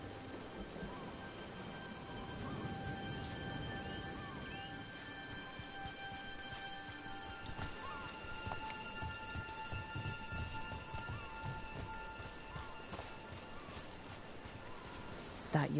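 Steady rain falling in the video game Necropolis, a continuous broadband hiss with scattered low rumbles throughout, held at an even moderate level while faint voices talk over it.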